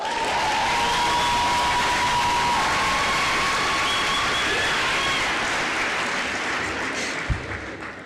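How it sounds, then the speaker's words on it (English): A crowd at a graduation ceremony applauds steadily in sustained clapping that holds loud for several seconds, then starts tapering off near the end. "If you like it, I want you to applaud hard."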